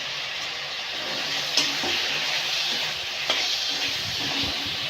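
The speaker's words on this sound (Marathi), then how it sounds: "आता ह्या फोडी आपल्याला छान मसाल्यामध्ये परतून घ्यायच्या आहे" Potato chunks sauté in spicy masala in a pan, giving a continuous gentle sizzle with occasional scrapes and stirs of a spatula, close and steady.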